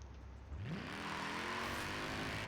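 A 2005 TVR in Forza Horizon 4 revs up hard, engine pitch climbing from a low idle into a loud, sustained high-rpm roar that holds steady to the end.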